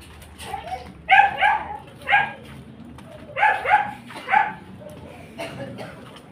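A dog barks and whimpers nearby in several short clustered bursts, high-pitched and yelping, separated by brief pauses, with faint background noise between them.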